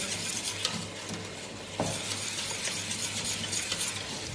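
A spoon stirs thick red sauce for a Cypriot sosyete dessert in a pot, producing continuous soft scraping and swishing strokes up close, with one sharper clink midway and no talking.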